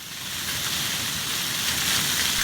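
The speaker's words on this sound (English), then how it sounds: "How would you describe the sound of this fountain?" A water fountain splashes with steady broadband falling water, continuous and fairly close, with a bright hiss that swells slightly over time and no voices.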